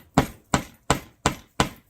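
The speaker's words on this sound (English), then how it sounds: "Something heavy that you can bang this into it." A hammer strikes a metal jean button into denim in five evenly spaced, sharp whacks about a third of a second apart, close and loud with no talking.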